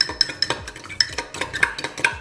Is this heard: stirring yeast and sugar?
yes